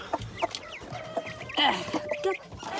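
Several hens cluck and murmur nearby on a homestead in short, uneven bursts, with a steady low hum of the surroundings behind them.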